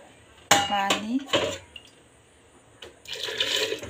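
Water is poured into a cooking pot at a village kitchen, with sharp clanks of metal utensils and a brief splash, then a fuller pouring rush near the end; a voice speaks faintly in between.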